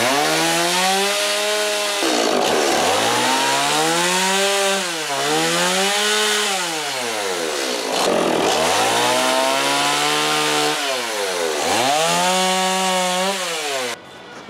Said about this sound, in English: we're gonna make a little triangle with the chainsaw